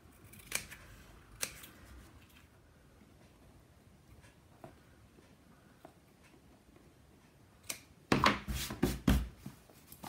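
Scissors trim fabric on a book album cover, with a few scattered snips early on and then a burst of louder, rapid cutting near the end, close and alone with no talk.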